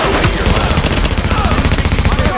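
Loud, rapid bursts of automatic gunfire from The Division fill the whole stretch, dense and continuous with close, punchy reports.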